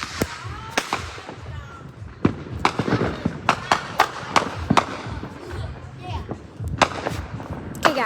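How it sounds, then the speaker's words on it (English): Distant fireworks go off in a scattered series of sharp cracks and pops over several seconds, some in quick pairs, against outdoor background noise. "William, there's fireworks over there."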